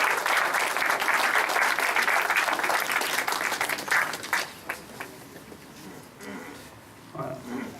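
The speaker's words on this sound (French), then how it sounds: "Alors nous pouvons les applaudir, hein." Audience applause at a municipal New Year's greetings ceremony in Rivière, a dense sustained clapping that swells for about four seconds, then thins into scattered claps and murmuring voices.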